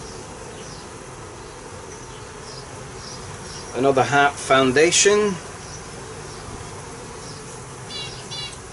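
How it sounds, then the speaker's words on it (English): Honey bees from a calm swarm hum steadily throughout a hive inspection, a soft continuous drone while someone speaks briefly in the middle. "Real calm bees, I must say."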